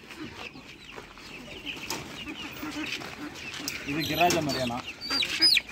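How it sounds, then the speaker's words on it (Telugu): Native country chickens on a poultry farm, clucking and calling close by in scattered bursts that grow louder toward the end, with people talking over them. "తర్వాత నాటు కోడి అంట."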